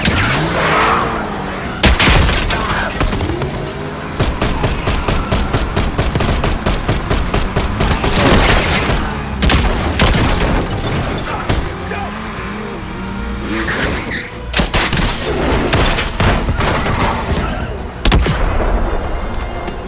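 Loud automatic gunfire in the shooter Black Ops 6 campaign, long rapid strings of shots with brief pauses between bursts, close and dominant, with a voice speaking now and then.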